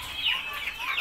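Shamo chickens in a coop give a quick run of soft clucks and calls, close and fairly loud across a brief moment.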